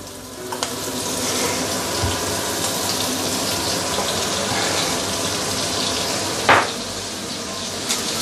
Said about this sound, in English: I'm now going to add more oil